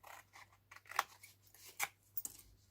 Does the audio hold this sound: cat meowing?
no